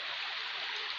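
Water rushing steadily through a forest stream past a newly built check dam, the flow too strong to be held back; a continuous, fairly loud broadband wash with no voices.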